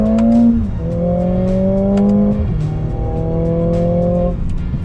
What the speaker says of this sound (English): I'm gonna use the paddle shifters. I'm gonna try to let it go to its red line,